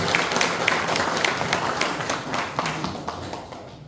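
Applause greets the head of a Busan port industry federation being introduced at a lecture on the ministry's relocation to Busan. A modest crowd claps in a brisk patter that gradually fades out over a few seconds.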